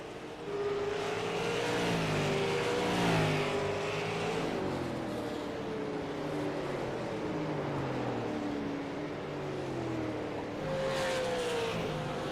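Super late model race cars roaring around North Wilkesboro Speedway during a tour race, engines droning loud and continuous with rising and falling pitch as cars pass, a steady wall of motor noise throughout.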